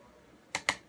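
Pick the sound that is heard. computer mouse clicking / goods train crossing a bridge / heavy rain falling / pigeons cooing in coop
computer mouse clicking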